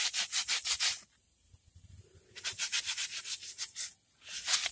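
Sandpaper or a wire brush scrubbing the inside of a car wheel bearing housing on a Chevrolet Cavalier, close and loud in quick back-and-forth bursts of rubbing separated by brief pauses.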